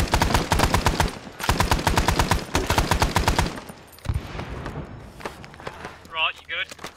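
Rapid bursts of automatic gunfire in the military shooter game Arma 3 sound loud and close in steady rhythmic runs for about three seconds, then scattered shots and movement follow while voices talk over the action.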